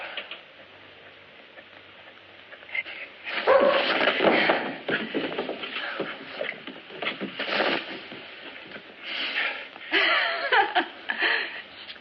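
A puppy whimpers and gives small yips in irregular bursts, moderately close, in a quiet indoor night setting with no talk over it.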